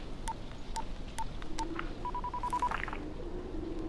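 Telephone keypad tones from the video game Dying Light: four spaced beeps, then a quick run of about eight rapid beeps, clear over a steady windy background hiss with no talk.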